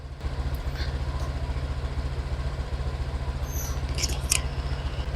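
A motorcycle engine idles close by with a steady low rapid thrum, joined near the end by a few faint high clicks.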